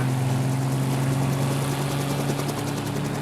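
Police helicopter hovering overhead during a car chase in Yorkshire, its rotor and turbine making a steady, loud, close drone with a pulsing blade chop throughout.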